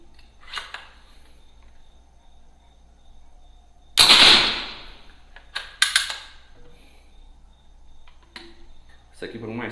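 A suppressed air gun converted to 9mm fires a 75-grain pellet that strikes a steel plate, a single sharp metallic impact ringing out once, with a few faint clicks around it.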